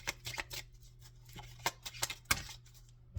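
Tarot cards are shuffled close by in quick, quiet bursts of papery riffling and snapping, with short uneven pauses between them.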